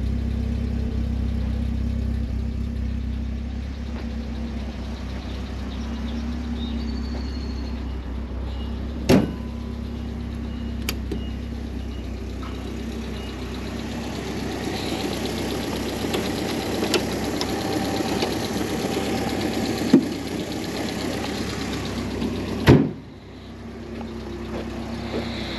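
A 1986 Alfa Romeo Spider Graduate 2-litre engine idles steadily with a low, even rumble, broken by a few sharp clicks and a brief louder burst near the end.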